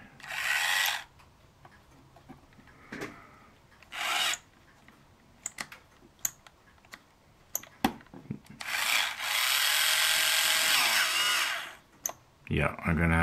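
A cordless drill low on torque drives a bit into a wooden model ship, whirring in several short bursts and one long sustained run, with tool handling clicks between and a voice speaking at times.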